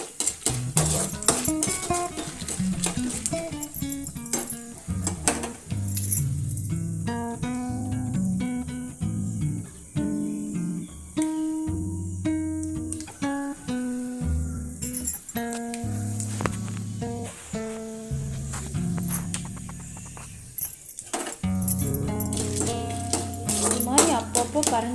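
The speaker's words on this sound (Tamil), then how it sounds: "அப்பப்போ கரண்டி வச்சு வறுத்து விட்டுக்கோங்க" A metal spoon stirs and scrapes a pan while ingredients fry over low flame for lemon rice. Repeated clinks and taps run throughout beneath a continuous voice.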